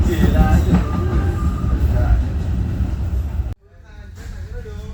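A KA Commuter Supas commuter train rolling toward Surabaya Kota station, a loud steady rumble of wheels on track heard from inside the carriage with voices talking over it, dropping suddenly near the end to a quieter hum.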